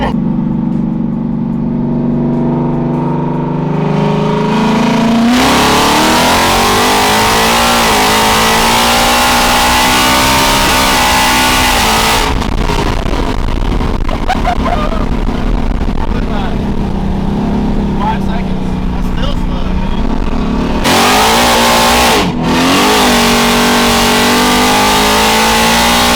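Car fitted with a supercharged Gen 3 Coyote V8 and Whipple blower, running lean, revving and accelerating hard in a loud sustained pull with gear shifts, while people talk over it.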